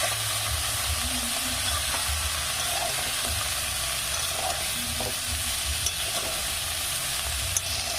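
Drumstick flowers frying in a full wok, a steady dense sizzle and hiss with soft stirring rustles and a couple of faint clicks, even in loudness from start to finish and free of talk.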